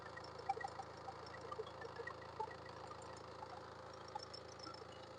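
A 2015 Honda Mobilio diesel engine idles at low volume, a steady even rumble with light ticking and no voices over it.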